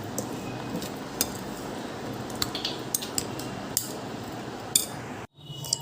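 A spoon stirs a boiled potato mixture seasoned with salt and black salt in a bowl, giving a steady rustle with scattered metallic clinks against the rim before an abrupt stop.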